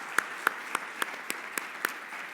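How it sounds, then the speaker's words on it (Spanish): A live audience claps briskly and evenly for a couple of seconds, with sharp individual claps standing out over a steady wash of applause from a crowd at a talk show taping. "Denle un fuerte aplauso."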